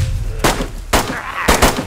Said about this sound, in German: Schießt in die Luft.